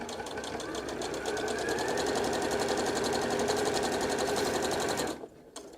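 A sewing machine runs steadily, stitching fabric for reusable facial cleansing pads in a fast, even whir for about five seconds before stopping abruptly, leaving quiet room tone.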